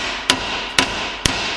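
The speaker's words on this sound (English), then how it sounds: "Air hammer it is." An air hammer fires three sharp, loud bursts at roughly even intervals while work is done on an old Jaguar barn find, with a steady background hiss between the strikes.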